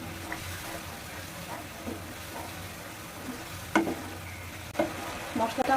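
Spice paste for chicken curry stir-fried in a pan, a low continuous sizzle broken by scraping spoon strokes that grow louder and sharper toward the end, with faint talk in the background.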